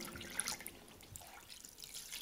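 Water pours into a pot of sugar to make pineapple juice syrup, a faint, steady splashing trickle lasting a couple of seconds.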